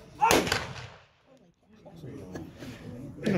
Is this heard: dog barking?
no